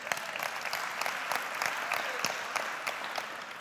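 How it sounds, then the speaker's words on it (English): Audience at a creative-conference talk breaks into steady applause, a dense wash of many hands clapping at even loudness throughout, with no voices over it. "I don't know why I got a round of applause for luck"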